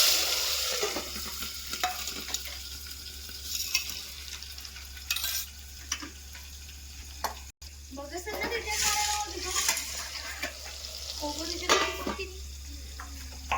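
Tomato pieces drop into dal and sizzle in a hot pan while a spoon scrapes and stirs in repeated close strokes, steady frying hiss underneath, with a voice talking over the cooking.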